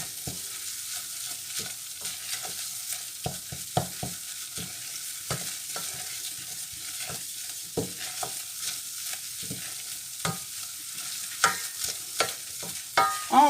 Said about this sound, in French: On forme un roux. C'est-à-dire cuire la farine et le beurre de cette manière.